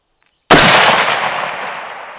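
A single sharp shot from an FN FAL L1A1 rifle at an outdoor long-range shooting setting cracks loud and close after a brief silence, then trails off in a long, fading echo.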